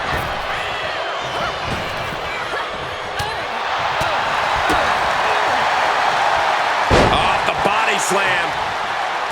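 Wrestler slammed onto the ring mat during a televised SmackDown match, a sharp thud amid roaring arena crowd noise, with a commentator talking over the action and another hard impact near the end.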